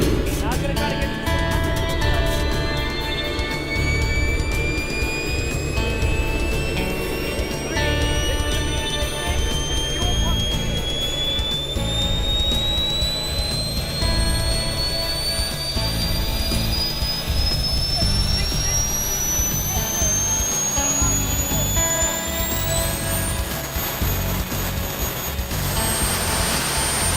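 A small diesel-fuelled jet engine running at stage 2, a loud continuous roar with a whine that climbs steadily in pitch as it spools up, close by, while a voice talks over it.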